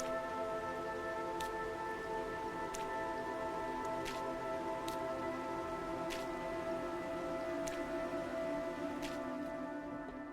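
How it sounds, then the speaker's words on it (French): Steady outdoor rain hiss in the game 7 Days to Die fills the background, with a low constant hum and occasional sharp ticks recurring every second or so. "Je sais pas si c'était le bruit de la pluie à l'extérieur"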